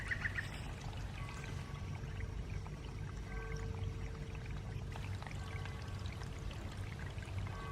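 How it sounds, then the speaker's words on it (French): Water trickles through clay and pours into a small garden pond. The flow is a soft, continuous splashing and trickle, fairly quiet and heard alone. "l'eau coule par capillarité, elle passe à travers l'argile"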